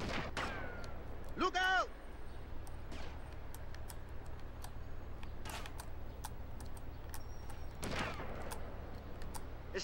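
Sporadic sniper gunfire in GTA Vice City Stories, sharp isolated cracks scattered over a steady game ambience, with a brief shouted warning early on.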